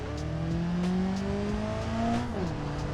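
A car engine in the BeamNG Drive driving game revs up steadily through the gears toward 130 km/h, its rising whine loud, close and continuous with no voices over it.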